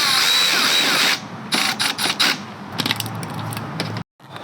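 Power tool driving a screw through the bottom of a carbon fiber trim piece into a small mount on a BMW F82 M4, loud continuous whirring bursts with short pauses, cutting off near the end.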